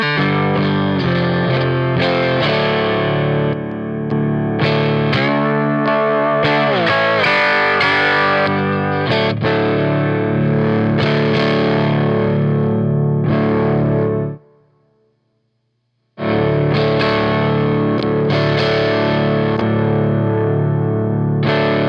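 Electric guitar through dual overdrive pedals, the BMF El Rey, Kasleder FX Toxic Twins and Beetronics Wannabee, plays loud, continuous distorted chords and riffs, cutting out briefly near the end before a final strummed chord rings on.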